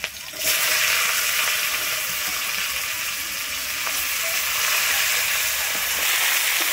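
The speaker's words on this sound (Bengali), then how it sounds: "আমি তেলের সঙ্গে আলু আর মূলোটাকে খুব ভালোভাবে মিশিয়ে নিচ্ছি।" Potatoes and radish fry in oil with green chillies for a Bengali tengra fish curry, a steady loud sizzle with faint stirring running throughout.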